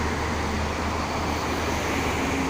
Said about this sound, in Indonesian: Terlihat banyak sekali kendaraan yang mau ke arah Jakarta ini